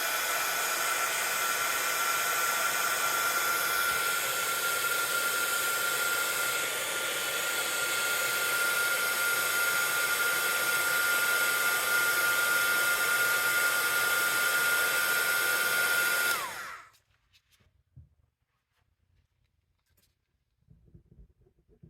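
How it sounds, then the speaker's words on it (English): A heat gun blows hot air steadily and loudly at close range while softening parts on a dirty crystal edition original Xbox, a constant broadband roar with a faint whine that cuts off abruptly near the end, leaving near silence. "Another method, if you grab your heat gun, you can do quite a bit with that as well."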